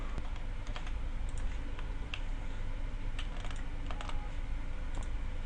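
Light, irregular clicks of a computer keyboard as Ctrl-T shortcuts are pressed during a graphics editing tutorial, soft scattered keystrokes over a steady background hiss.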